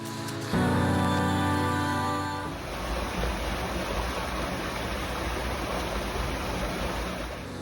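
Water flows along a stream in Samaria Gorge, a steady broadband rush that takes over after a few seconds of louder, humming noise at the start.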